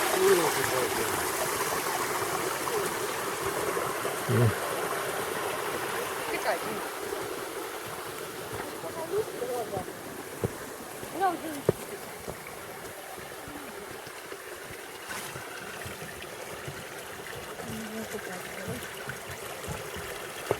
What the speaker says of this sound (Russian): место, куда вытекает вода